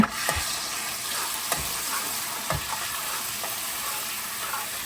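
Garlic frying in a pan as the first step for cooking green beans, a steady close sizzle with a few sharp stirring scrapes and clinks spaced through it.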